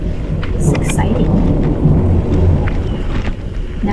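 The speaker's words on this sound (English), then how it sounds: "It's thundering here in Austin." Thunder rumbles through a storm in Austin, Texas, a continuous low roll blended with steady rain hiss, loud and close, with no voices over it.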